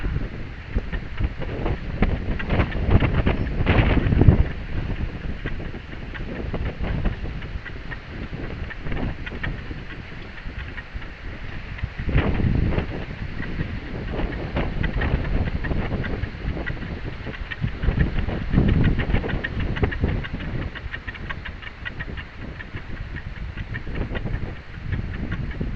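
Steady wind gusting outdoors around an experimental homemade vertical-axis wind generator, a broad rushing roar that swells and eases in waves with rumbling buffets against the microphone, no voices.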